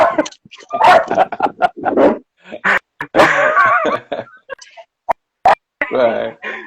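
A dog barks inside a house, several short sharp yaps in bursts mixed closely with someone talking nearby.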